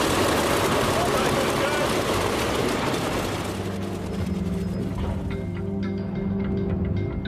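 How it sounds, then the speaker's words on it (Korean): A Corsair aircraft's radial engine turns over and starts, a loud coarse roar that settles into a steady, pulsing idle with mechanical clatter. "Okay, go ahead and engage the starter."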